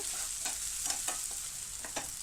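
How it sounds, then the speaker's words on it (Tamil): Ingredients for mutton keema being stirred and sautéed in a pan until browned, a steady close sizzle with soft, irregular scraping strokes of the spoon. "இப்போ வந்து இதை நல்லா வதக்கி எடுத்துருங்க"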